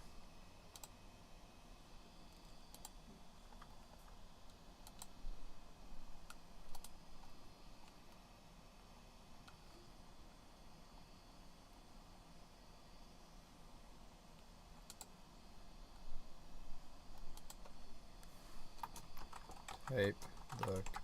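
Computer keyboard typing runs steadily through the whole stretch, with light irregular key clicks and a few louder bursts, a faint voice occasionally audible under the clatter.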